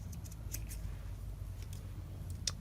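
Scissors trim fabric scraps into a tab for a textile journal: a few quick, soft, close snips spaced across a quiet room.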